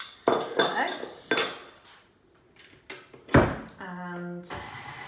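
Eggs mixed into cheese scone dough in a bowl, with a series of close, sharp clinks and scrapes of a utensil against the bowl, a quiet pause, then a loud knock and a ringing metallic clatter.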